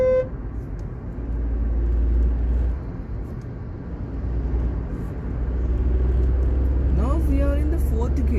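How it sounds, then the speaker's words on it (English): A Volkswagen Polo hatchback's engine pulls with a steady low rumble after a downshift, the note rising and falling with the throttle, under ongoing talk inside the car. "This vehicle doesn't pull much at the farthest gear, so the better thing is that downshift"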